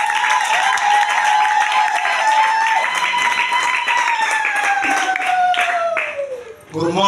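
A church congregation applauds and cheers loudly for the Lord, with dense clapping and sustained shouts and ululation, and a voice carrying over the crowd before the noise dips near the end.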